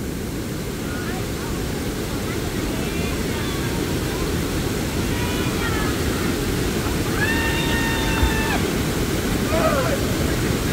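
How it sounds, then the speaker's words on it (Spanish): Water jets of a pool waterfall pour and splash in a steady, loud broadband rush, with people's voices calling faintly over the spray. "Meterse abajo de los chorros de la cascada"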